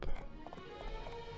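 A horse's hooves clop softly in the video game My Time at Portia, a few quick, faint footfalls over a low background hum.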